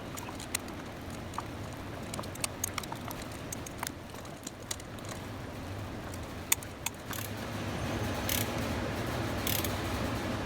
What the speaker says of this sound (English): we're tightening up this turbo band clamp to 133 inch-pounds